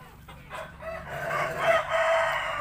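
An Asil and Pamangon crossbreed rooster crowing up close, a loud drawn-out cock-a-doodle-doo that rises and holds, with faint clucking and farmyard sounds around it.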